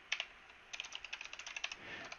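Quick, light keystrokes on a computer keyboard, about fifteen taps in a fairly steady run, close and fairly quiet, with no talking.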